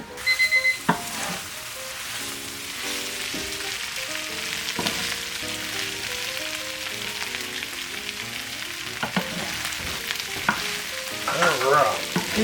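Cooked chicken reheats in a pan with a steady, loud sizzle and frying hiss, broken by occasional stirring scrapes and clinks, and an intermittent electronic beeping melody plays over it.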